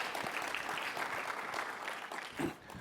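An audience at a tech conference breaks into applause, a fairly faint, steady patter of clapping from a crowd that continues evenly before briefly swelling and tapering near the end.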